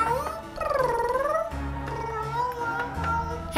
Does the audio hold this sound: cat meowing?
yes